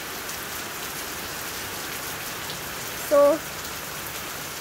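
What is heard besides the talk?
rain falling on a parked vehicle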